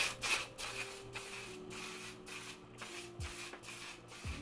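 Until Dawn setting spray by One Size is misted over a made-up face in a series of short, soft hissing bursts, faint and close, with no talking.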